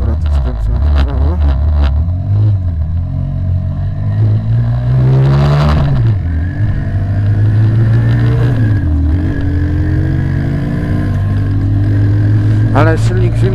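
A cold motorcycle engine runs steadily close by, its low drone rising and falling as the rider turns right, with a brief rev swell in the middle and someone talking over it.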